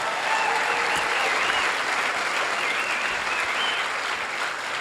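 A large outdoor crowd at a Mule Day liars contest applauds the winners, producing a thick, continuous roar of clapping with a few faint cheers, steady and loud throughout.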